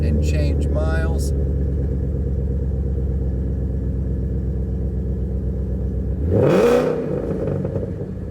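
A 2014 Roush Stage 2 Ford Mustang's engine rumbles steadily at close range, with a short surge near the end as it revs up and falls back, under a faint background voice.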